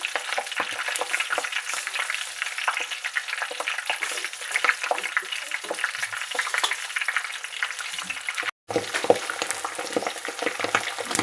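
Flowers and fenugreek seeds cook in hot oil for a homemade hair oil, giving a continuous close crackling fry with a brief break near the end.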